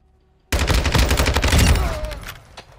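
A sudden loud burst of rapid automatic gunfire erupts in the Call of Duty DMZ video game, sustained for about two seconds before tapering off.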